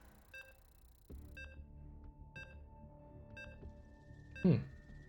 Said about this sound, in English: Come on, timer. You're at 0. Stop ticking.